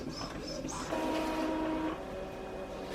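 An inkjet-style printer prints designs onto sublimation paper for shirts and tote bags, with a short mechanical whirr and a steady motor drone lasting about a second amid close room noise.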